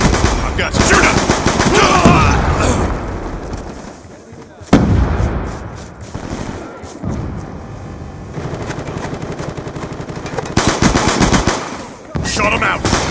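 Loud, rapid bursts of automatic gunfire in Black Ops 2 multiplayer rattle almost continuously, dropping out briefly before resuming, with game voices calling out over the shooting.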